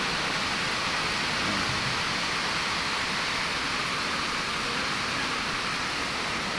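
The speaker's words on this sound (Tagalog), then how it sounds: "Ulan dito, guys." Steady rain falls outdoors as a dense, even hiss with no breaks, close and fairly loud, and no voices.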